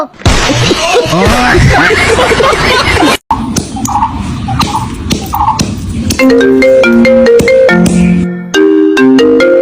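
A loud electronic ringtone plays a melodic tune of repeating tones after some clattering noise.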